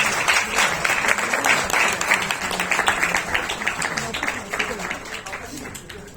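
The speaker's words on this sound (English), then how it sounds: "You all deserve a wonderful round of applause." Audience applause at a Sanjog stage performance event, dense steady clapping from a crowd filling the whole stretch, with some voices mixed in.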